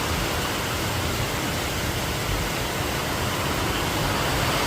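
Heavy monsoon rain in Navsari, seen from a rooftop terrace, hisses and roars in a steady, full, close-up wash of sound with no speech over it.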